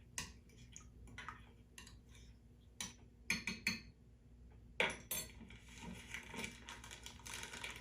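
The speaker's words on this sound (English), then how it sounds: "So now I go ahead and mix this marinade all together" Whisking a marinade with salt and pepper in a bowl gives light clinks and taps of utensil on dish, irregular and close, with a faint steady hum beneath.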